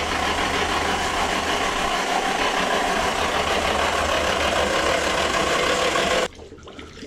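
A freshly rebuilt, forged Nissan Silvia engine cranks over continuously on the starter to build oil pressure, a loud, steady whirring drone that stops abruptly near the end and leaves quieter background noise.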